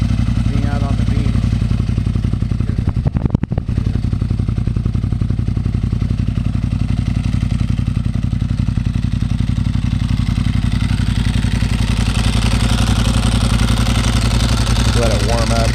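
Ducati Monster S2R1000 engine idling while warming up, a steady loud low rumble with even pulsing throughout and a brief dropout near the start.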